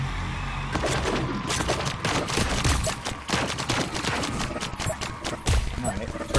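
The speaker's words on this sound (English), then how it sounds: "Turb0 starting off this round, peppering just a little bit with that Wildcat" Wildcat gunfire in the VR shooter Blaston during a championship match, rapid peppering shots crackling over constant commentator talk, with dense bursts throughout.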